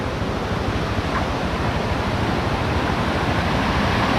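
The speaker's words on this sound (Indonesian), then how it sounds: "Sambil jalan-jalan kita dengarkan suara air ya." Clear river flowing over large boulders beside terraced rice fields at a remote village near a forest, a loud, constant broadband rush of water close by with no pauses.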